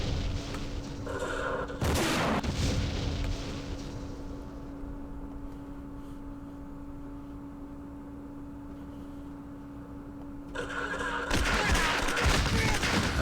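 Gunfire and artillery in the wargame Campaign Series Vietnam, Dien Bien Phu scenario: loud crackling bursts of fire at the start and again near the end, and a low steady hum with no talking in the quieter middle.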